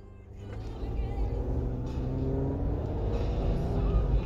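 Automatic-transmission car pulling away in first gear during a drive test, a steady low engine rumble that builds gradually as it accelerates, with faint talk over it.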